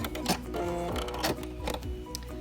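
A sewing machine stitches fabric in quick, even bursts, its needle rattling rhythmically with brief pauses between runs, close up and fairly quiet.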